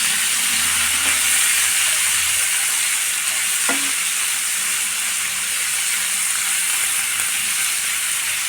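Two large, coarsely cut onions fry in a pan for a dhaba-style kaju paneer masala, giving a steady, close sizzle and hiss with a couple of brief spoon-scrape stirs early on.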